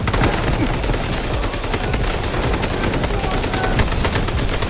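Rapid automatic AK rifle fire in the shooter game Delta Force, a dense unbroken stream of loud sharp shots lasting the whole stretch, close and continuous with no pauses.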